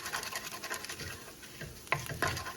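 Onions sautéing in a pan while Spanish rice is prepared, a soft, low sizzle with light scraping and stirring, ending in a couple of sharper utensil clicks against the pan.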